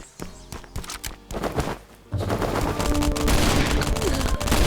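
Gunfire in the video game Last Island of Survival: scattered single shots at first, then a dense, continuous burst of rapid automatic fire that fills the latter half loudly.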